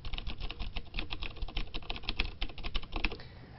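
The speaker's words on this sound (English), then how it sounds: "Cherry MX Blues are the most well-known mechanical keyboard switch due to its clicky and tactile nature" Typing on Cherry MX Blue mechanical keyboard switches, a rapid, uneven run of sharp clicky keystrokes close to the microphone, with no talk.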